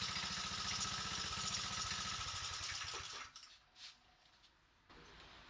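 A Briggs & Stratton Raptor small engine runs steadily and fairly loud with a rapid, even firing pulse for about three seconds, then cuts out, leaving faint rustling and handling noises.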